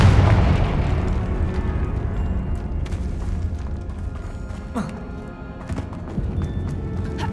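A Confringo fire spell blasts with a deep, booming burst at the start of a Hogwarts Legacy fight, then settles into a rumbling low roar with scattered crackles and smaller impacts.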